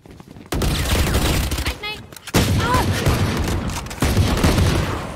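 Rapid bursts of gunfire in Valorant on the Pearl map, loud close volleys with a brief pause midway, mixed with short game effects.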